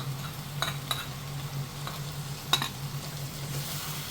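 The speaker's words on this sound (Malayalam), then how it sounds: "നമുക്ക് ഈ അരപ്പ് ഒഴിച്ചു കൊടുക്കാം." Ground spice paste poured into a hot pan for a Kerala pumpkin tamarind curry, giving a steady low sizzle with a few clinks of a spoon stirring against the pan.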